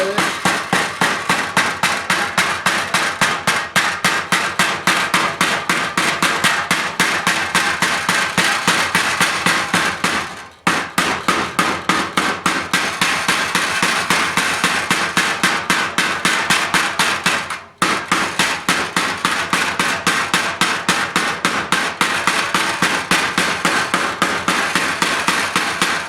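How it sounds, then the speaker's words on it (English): A rubber-and-composite mallet taps sheet metal while a louver tool is made from scrap, giving a fast, even stream of close, loud taps that continues for long stretches and is broken by two brief pauses. "this is it's rubber on one side and composite on the other, and you just want to tap it"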